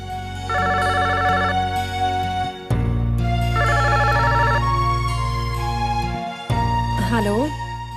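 A telephone rings in a home with repeated electronic trill bursts, loud and near, over a steady background music bed.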